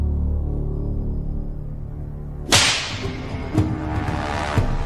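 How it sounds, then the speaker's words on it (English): A scorpion whip lashes a pig carcass in a medieval torture test: a sharp crack with a whoosh, followed by several smaller snapping strikes, over a low steady hum. "They will test the effect of the whip on a pig carcass."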